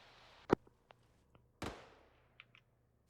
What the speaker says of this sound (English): There's gunshots to our west.